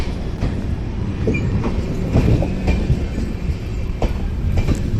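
Inside the rear general coach of the moving Amritsar Superfast Express toward Ludhiana, a loud, steady rumble carries repeated clacks of wheels over rail joints.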